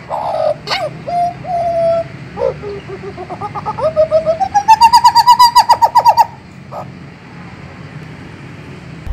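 A loud, clear Papuan butcherbird call: a few short whistled notes, then a rising, fluting phrase with a rapid pulsing trill, set against steady background hiss.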